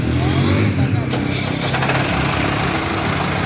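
A Massey Ferguson 385 tractor engine runs steadily at close range, a continuous loud mechanical drone with a low throbbing rumble, with speech faintly mixed in.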